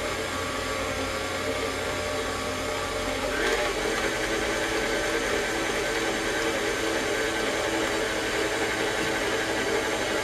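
An electric mixer whirs through candy bar cookie dough at close range, a loud, steady, dense motor drone that holds for the whole stretch, with a slight shift in pitch partway through and no talking.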